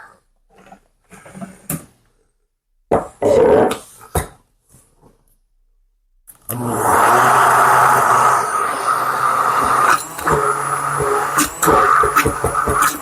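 Blender mixing eggless vegan mayonnaise: after a few brief knocks and a quiet stretch, a loud, steady motor whir kicks in and runs continuously to the end.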